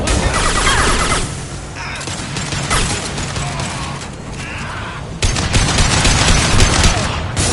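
Sustained gunfire from the video game Mass Effect 2, with dense rapid bursts and sharp shots close by, swelling louder after a brief lull near the middle, with a voice briefly heard under the barrage.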